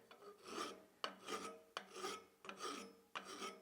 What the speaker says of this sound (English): Can get in there with a rat tail file if you wanted to, and just shape it up